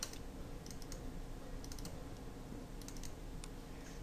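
Keys clack on a computer keyboard in short quick bursts, fairly close, with no talking.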